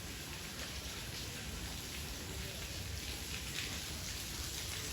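Steady rain falls at a village house, a dense even hiss of drops on surfaces that continues unbroken with no other sounds.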